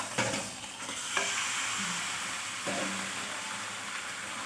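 An ingredient added to reddened fried onions in a pan, a bright sizzle with several scraping stirs and a light clank early on, close and steady without speech.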